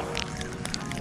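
Ducks quacking close by outdoors, a few short harsh calls in quick succession over a busy, noisy background.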